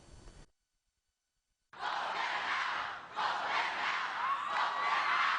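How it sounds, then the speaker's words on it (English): Huge crowd of demonstrators at the March for Our Lives gun-law protest in Washington, a loud sustained roar of cheering and shouting that breaks off briefly after a short opening burst, then resumes and holds steady. "Huge crowds in Washington gathered across the United States."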